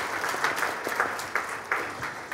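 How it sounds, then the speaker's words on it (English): Audience applause for managers and mentors at the ELTDP Symposium 2015 closing ceremony; a short burst of steady hand clapping from a moderately sized crowd, fairly close and even in loudness. "let's give it applause to the managers and mentors."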